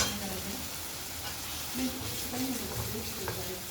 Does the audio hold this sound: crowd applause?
no